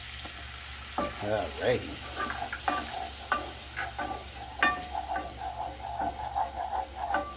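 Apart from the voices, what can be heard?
butter and flour cooking in a pan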